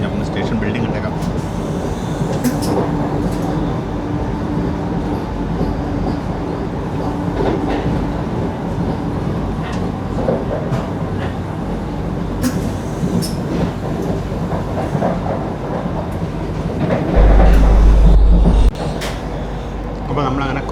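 Inside a Vande Bharat express train running on rails toward Kottayam station, a steady loud rumble and rattle of the carriage continues with rhythmic clicks, and someone speaks over the noise throughout.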